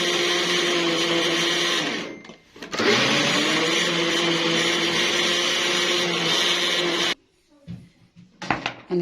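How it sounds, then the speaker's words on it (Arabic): A kitchen blender runs loud and steady as it blends cake batter ingredients of flour, starch and baking powder. It whirs close up in two long bursts separated by a short pause, then stops with faint clatter afterward. "افرم بقى كل حاجه قدامكم اهو"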